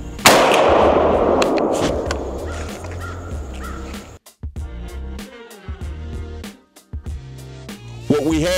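A Panzer Arms M4 shotgun fires its first shot, one loud close blast with a long decaying echo, followed by faint clicks and handling noises and crows cawing in the distance.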